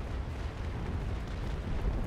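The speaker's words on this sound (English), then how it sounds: "And Andrew, you can try and shoot on another broadside on the victory" Ship cannons fire broadsides in a naval battle game, a dense, continuous low rumble of heavy booms that blurs into one steady roar at moderate level without separate shots.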